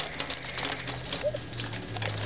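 Hail patters steadily during a storm, a dense, close rattle of small impacts without any voices.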